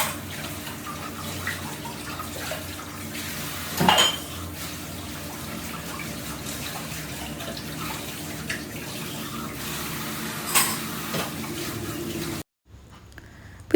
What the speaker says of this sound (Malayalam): പാത്രങ്ങളുണ്ടായിരുന്നു നിറയെ, അതെല്ലാം കഴുകി എടുക്കുകയാണ്